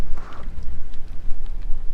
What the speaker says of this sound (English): Getting a little rain.